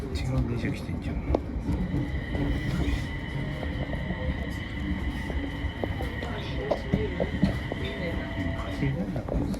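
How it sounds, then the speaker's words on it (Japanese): A train on the Tohoku Main Line rumbles steadily nearby during wind-related schedule disruption, with a continuous low rolling roar and faint high tonal whines layered over it. "違う電車来てんじゃん。"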